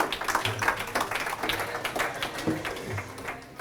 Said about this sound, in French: vous pouvez l'applaudir très fort